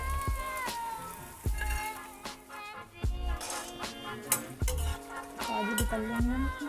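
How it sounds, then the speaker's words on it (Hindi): Gond, edible gum, fries in hot oil in a pan, a soft continuous sizzle broken by repeated metallic clinks and scrapes of a spoon stirring, with light background music. "गूंद को अच्छी तरह तलना है ताकि वो कच्चा ना रह जाए।"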